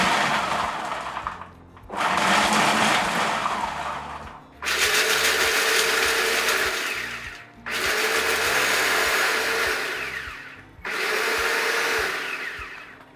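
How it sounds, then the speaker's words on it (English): A blender pulses cashews, salt and garlic powder into a coarse crumb, running in four loud, steady bursts of a few seconds each, separated by brief pauses, with no one talking. "Now blend this until you have a coarse mixture"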